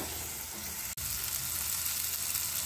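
Tomatoes hit hot spiced oil in a pan for a sprouted moong and potato usal, giving a close, steady sizzle that breaks off for an instant early on before carrying on evenly.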